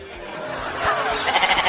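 A goat bleats in a wavering, nasal cry that grows louder and pulses toward the end, heard close up with no talking over it.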